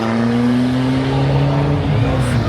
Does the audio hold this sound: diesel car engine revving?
yes